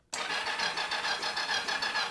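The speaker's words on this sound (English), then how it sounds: "Let me hit the starter button." Electric starter cranking the engine of a 1983 Yamaha XZ550RK motorcycle, a steady rapid whirring churn that begins abruptly and holds loud and even for about two seconds, with no voices.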